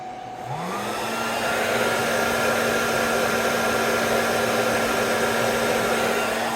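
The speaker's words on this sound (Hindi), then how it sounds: "और अब मैं इसको ऑन करने लगा हेयर ड्रायर को।" A hair dryer drawing about 1480 watts switches on, running off a Sorotec 1200 watt solar inverter. Its motor whine rises quickly as it spins up, then settles into a loud, steady airy roar with a constant tone.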